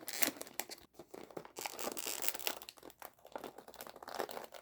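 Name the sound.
tape being applied along a chip bag's inside flap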